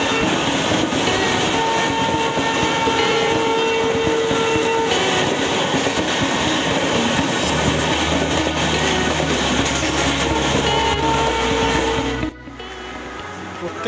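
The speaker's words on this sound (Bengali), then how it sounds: "এই ট্রেনটি পাস হয়ে গেলে আবার আমাদের ট্রেন চলা শুরু হবে।" A train passes a small station on the New Jalpaiguri to Alipurduar line through the Dooars, a loud, continuous rumble and rattle of wagons with a horn tone, heard from a halted train before it drops off near the end.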